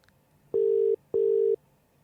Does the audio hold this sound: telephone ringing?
yes